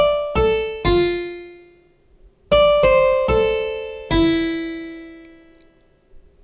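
Harpsichord patch in SampleTank with the release raised: a loose series of bright plucked notes, close and clear, each ringing out and fading gradually instead of stopping dead, with no speech.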